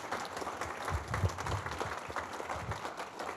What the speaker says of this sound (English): Round of applause, everyone, for amazing founders.